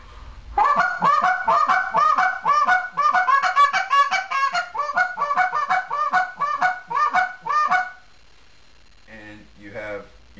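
Quick, choppy hiccup notes on a goose call, with a hiccuping break in each note, rattled off in a fast, loud run before stopping, then faint sounds trail off.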